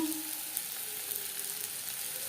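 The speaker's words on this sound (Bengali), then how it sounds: "এবার দিয়ে দেবো পেঁয়াজ কুচি আর লাগছে হলুদের গুঁড়ো" Chopped onion and turmeric powder frying in hot refined oil for a fish-oil and roe chorchori, giving a steady, close sizzle with faint crackle throughout and no talking.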